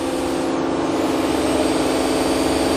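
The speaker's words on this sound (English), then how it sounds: "There's a tool change it's going through." A Toshiba MPF-2114C bridge-type vertical die and mold machining center runs a tool change, producing a loud, steady mechanical drone with a fixed whine and a constant hiss that holds unchanged throughout.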